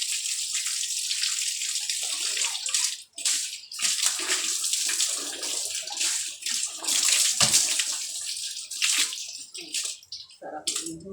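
Water poured over someone bathing, splashing and streaming continuously in loud bursts with brief pauses and drips between pours.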